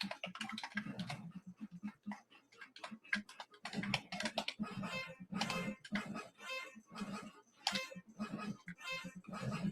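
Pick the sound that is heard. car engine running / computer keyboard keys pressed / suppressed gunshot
computer keyboard keys pressed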